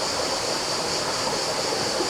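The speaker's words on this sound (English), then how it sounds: "Bunch of little streams." Small streams of water pour steadily at Candalla Falls in Tuscany, a constant close rushing and splashing hiss with no break.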